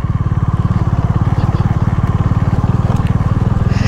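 Motorcycle off-roading through sand in Sangti Valley, Arunachal Pradesh: a loud, steady engine drone with a rapid regular pulse as the wheels pull through, with no pauses.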